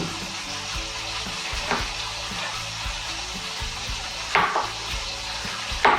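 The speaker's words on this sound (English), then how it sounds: "we're going to brown those for 2 minutes approximately on each side" Pork chops browning in a pan, a continuous close sizzle with occasional louder crackles and utensil scrapes breaking through the steady frying hiss.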